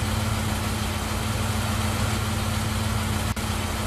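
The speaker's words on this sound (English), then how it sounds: "The sound of an engine brought me back to reality." A bus engine in the visual novel Everlasting Summer idles with a steady low rumble and constant hum, close and unchanging, broken only by a brief click near the end.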